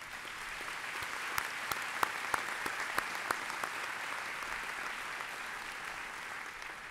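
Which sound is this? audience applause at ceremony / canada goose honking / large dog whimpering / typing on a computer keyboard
audience applause at ceremony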